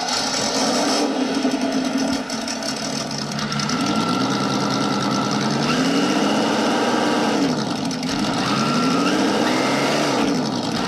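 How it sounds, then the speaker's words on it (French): A Traxxas TRX-4 radio-controlled truck fitted with an ESS sound system runs loud and close, its simulated engine droning and warbling in rising and falling sweeps, with a high electronic tone steady through the sound. "Le moteur fait toujours son petit bip bip de moteur."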